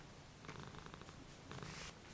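A cat purring softly and steadily at close range, quiet and low with a faint rhythmic flutter, and no talking over it.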